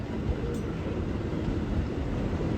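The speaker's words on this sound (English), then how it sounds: "We'll wait for that train to go by." A 7 line NYC subway train rumbles past nearby as a loud, continuous low roar that holds steady for the whole stretch.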